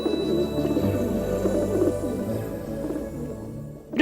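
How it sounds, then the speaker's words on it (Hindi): A pigeon cooing close by in soft, repeated low throaty phrases, fairly quiet and on its own, ending with a brief louder sound at the very end. "ये मेरा कबूतर है"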